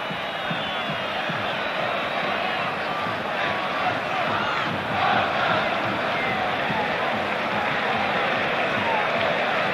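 Big football crowd at the Napoli stadium in Naples, a broad, steady roar of cheering swelling slightly midway, heard from a distance without a break.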